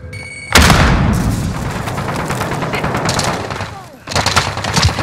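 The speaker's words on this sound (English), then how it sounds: "Throwing grenade." A grenade blast in Call of Duty Warzone on Rebirth Island, a loud boom erupting half a second in and rolling into a rumbling, crackling tail of gunfire, with a fresh burst of noise near the end.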